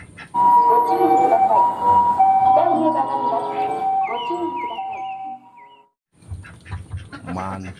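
A toy ambulance plays a tinny electronic siren and jingle, loud and close, wavering through several tones before cutting off, followed by a brief burst of talk.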